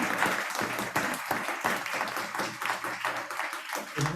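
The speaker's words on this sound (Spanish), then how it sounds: "te vamos a dar otro aplauso" An audience at a presentation on pulquerías in Mexico City claps continuously, with individual claps standing out in a close, lively rhythm and no speech over it.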